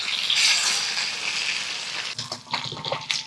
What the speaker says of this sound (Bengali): দুদিক সমান করে ভেজে নিয়ে মাছগুলো নামিয়ে নিচ্ছি